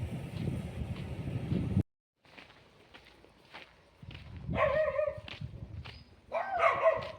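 Dogs barking in short bursts a little way off, with soft footsteps and shuffling between them and a brief dropout of sound partway through.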